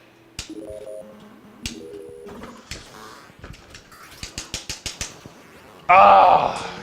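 A phone call inside a video game: clicky button-press and ringing electronic tones, a run of rapid tapping clicks, then a loud burst of ringing at the end.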